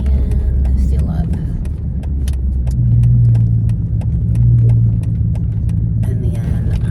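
A car drives on a road with a steady close engine rumble and road noise, swelling slightly as it moves, under a person talking.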